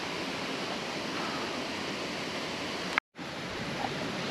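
A small waterfall tumbles beside a footbridge on a Lake District mountain walk from Patterdale to Hayeswater, giving a steady, moderate splashing rush that runs unbroken apart from a brief dropout.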